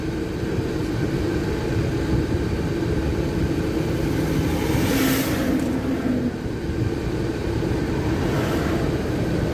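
Loud, steady road traffic roars continuously, with car engines rumbling and no pauses, heard along a highway during a truck convoy; no one speaks.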